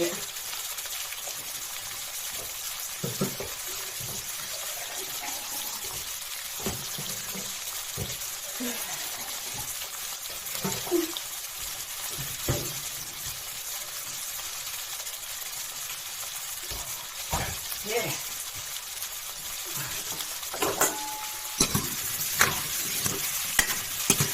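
Pumpkin with egg stir-fried in a pan after a splash of water, a steady wet sizzle with scattered scraping clicks of a spatula through most of the stretch, fairly close and continuous, with occasional background voices.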